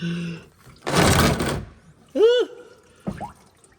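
Fluid draining from a 1000hp Mustang during maintenance, a brief loud gushing splash lasting under a second, set between short bursts of vocal sounds before and after.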